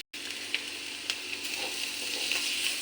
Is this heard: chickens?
no